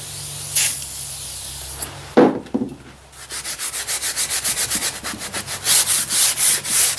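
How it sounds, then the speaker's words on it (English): Two quick hisses of WD-40 spray onto an old car driveshaft, then a Scotch-Brite pad scrubbing the metal in steady, close back-and-forth strokes. "I'll hit this with some WD-40 and a little Scotch-Brite to start, to kind of loosen up some of the junk here"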